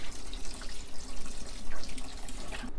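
Cold tap water runs steadily into a sink as blanched chamgasari seaweed is rinsed by hand, producing close, continuous splashing and gurgling.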